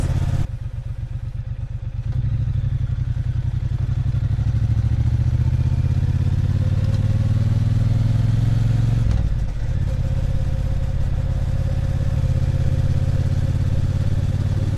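A Triumph Bonneville T120 motorcycle engine drones loudly and continuously while accelerating onto a highway in Yamagata, its pitch climbing through the revs with brief dips at gear changes, heard from the rider's position without talk.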